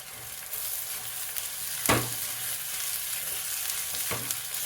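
Tomatoes sizzling in a pan with half-roasted onions over a medium flame for Maharashtrian baingan bharta, a steady close frying hiss with two sharp stir clatters and no talk.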